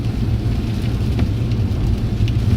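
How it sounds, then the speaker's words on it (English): Rain falls steadily on a late-March day, making a constant broadband hiss and patter with faint scattered drops throughout and no voices. "It is raining."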